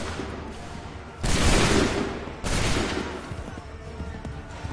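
Musket volley gunfire in the Assassin's Creed 3 Remastered video game: two loud, broad crashes of massed shots, each sustained for about a second before trailing off, set against a rumbling battlefield background.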